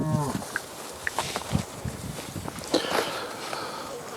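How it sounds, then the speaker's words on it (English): Cattle in a grassy field, a herd of cows with calves on permanent pasture, give a short moo near the start, followed by scattered soft rustles and footsteps. "So this pretty well is the first group of cows and calves."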